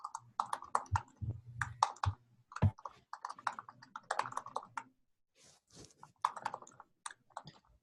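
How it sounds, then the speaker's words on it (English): Computer keyboard typing: irregular bursts of close, crisp key clicks and clacks in quick clusters with brief pauses, heard alone without speech. "I'm just typing one last little note here"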